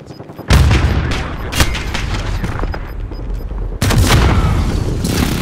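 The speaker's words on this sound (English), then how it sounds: "I spawned into an explosion." Video game gunfire and precision airstrike explosions erupt in a continuous loud barrage, with heavy booms hitting near 0.5 and 3.8 seconds over dense crackling shots.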